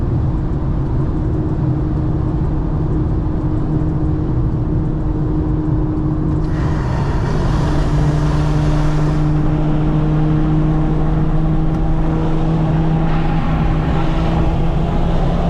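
An Infiniti Q50 Red Sport accelerating hard in fifth gear on a highway at night, a loud, continuous engine drone with steadily climbing pitch over heavy road and wind roar from inside the cabin.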